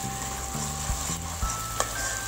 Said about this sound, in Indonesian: Bumbu halus dan bumbu halus sama bumbu supnya jadi satu, kita tumis sampai dia keluar aromanya